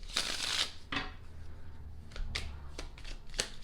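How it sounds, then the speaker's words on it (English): Tarot cards are shuffled by hand at close range: a long riffle burst first, then several short, crisp, separate flicks and snaps spaced irregularly over a few seconds, with quiet gaps between them. "They want me to shuffle these"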